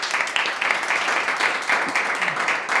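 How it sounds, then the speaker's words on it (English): Audience applause after a talk at the ReScript Retreat 2026 conference: thick, continuous clapping from a room of people that rises and falls in small waves at a moderate level. "a round of applause for this great talk"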